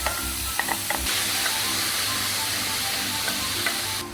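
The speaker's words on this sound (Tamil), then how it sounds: "போட்டுட்டு நல்லா ட்ரை ஆகிற வரைக்கும் வறுத்து எடுத்துக்கணும்" Ground mustard, onion and coconut masala fries in a pan until dry, a steady close sizzle with a few sharp scrapes and clicks of a spoon stirring it.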